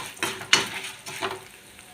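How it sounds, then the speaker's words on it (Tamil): Tamarind and dried red chillies fry in hot oil, giving a soft sizzle broken by a few quick stirring scrapes and clicks, close and fairly quiet. "இப்போ இதெல்லாம் நல்லா பொரிஞ்சு வரட்டுங்க"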